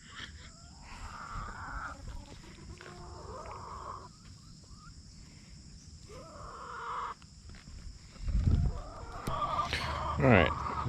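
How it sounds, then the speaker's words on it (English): Backyard hens cluck and call out their egg-laying song, a series of repeated rising squawks at moderate distance, with louder, sharper calls near the end over a steady background hum. "actually hear them singing the egg laying song"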